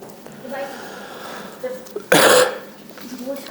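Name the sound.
cough and throat clearing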